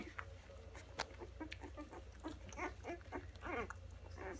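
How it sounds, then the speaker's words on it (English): Five-day-old chocolate Labrador puppies give a run of short, high-pitched yips and squeaky barks, faint and close, repeating irregularly in small bursts. "they're starting to go beep, boo, boo, boo, which is like a little kind of a high-pitched bark"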